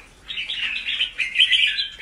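A red-whiskered bulbul sings a close, clear run of bright warbling phrases, continuous with short breaks, alone without voices.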